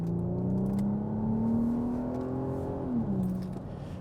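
Volvo XC70 T6 wagon on winter tires accelerating at half throttle, a steady rising engine drone heard from inside the cabin that drops in pitch briefly at a gear change, moderate and unbroken.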